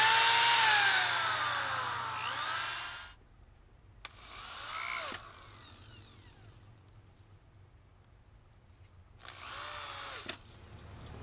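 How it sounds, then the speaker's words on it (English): Power drill pre-drilling holes and driving 1¼ inch screws into the wood of a garden trellis for a raised bed, with three close, loud bursts of whining motor separated by quiet pauses. "I'm also going to come and pre-drill 3 holes in here and put the 1¼ inch screws in there"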